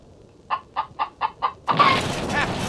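A chicken in a Wild West cartoon town clucks five times in a quick, even rhythm, then a loud broad blast or burst of noise swallows the sound.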